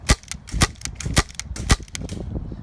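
Rapid shots from an inexpensive M9 Beretta non-blowback airsoft pistol firing 0.2 gram BBs, a string of sharp, close snapping pops at an irregular quick rhythm with a few louder cracks, no talking.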